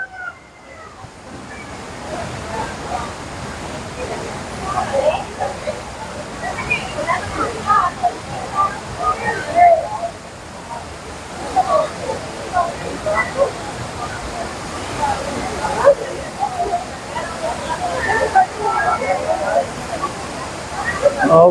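Tinoyan Falls in Surigao roars as a steady broad wash of falling water, with people talking over it throughout.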